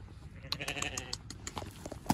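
A weakened sheep recovering after being tangled in netting bleats nearby in a wavering call, followed by rustling, small knocks and shuffling movement.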